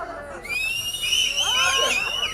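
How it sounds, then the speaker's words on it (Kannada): An audience lets out loud, piercing whistles, several overlapping shrill tones rising and falling together, set against a steady crowd hum. "ಶಿಳ್ಳೆ ಹೊಡಿಬೋದು ಶಿಳ್ಳೆ ಹೊಡಿಯೋದು"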